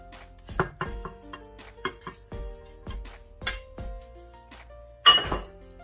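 Whole spices being broken by hand in a home kitchen while preparing shami kabab, a series of sharp crisp snaps and clicks spaced irregularly, close and fairly loud, with a final louder crackle, no talking.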